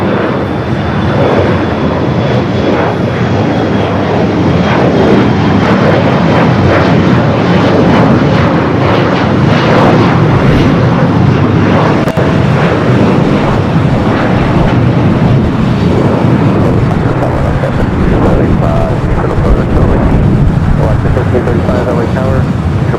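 A British Airways airliner touches down on runway 25L at Los Angeles International Airport, its engines roaring loud and steady throughout, with broad rumbling noise and voices talking over it.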